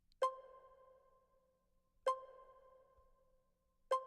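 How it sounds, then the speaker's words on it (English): Three short bright synth beeps, evenly spaced about two seconds apart, each with a clean tone that decays quickly into silence. "this little beep that's in here."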